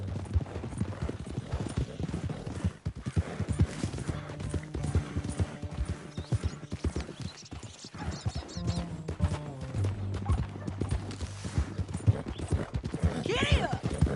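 Galloping horse hooves in the video game Red Dead Redemption 2, rapid rhythmic clip-clop throughout, with a whinny and game dialogue over the top.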